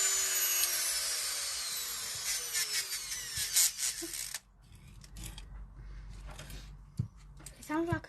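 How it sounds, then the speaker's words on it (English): Brushed electric motor from a VW T4 camper van repair, a high whirring whine with rising sweeps as it speeds up while new brushes wear in. It cuts off abruptly partway through, and people talk over it. "You hear it speed up as the brushes are wearing in."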